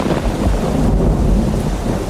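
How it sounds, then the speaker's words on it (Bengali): Heavy rain pours down in a steady, loud roar, with a deep low rumble running beneath it like distant thunder during a storm. "মুষলধারে বৃষ্টির ঝমঝম শব্দ"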